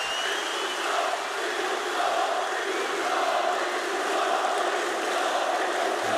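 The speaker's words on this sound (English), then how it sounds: "I don't think we've ever in esports had a crowd like this." A large esports arena crowd at the 2017 PGL Major in Kraków, Poland, roars and cheers steadily during a Counter-Strike quarter-final, a dense, sustained wash of many voices with no pauses.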